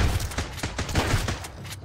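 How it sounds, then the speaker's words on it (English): Rapid gunfire in the survival video game Sunkenland as a shotgun fires at bandits: a quick flurry of sharp, close blasts, roughly eight in under two seconds. "shotgun is still almost the best"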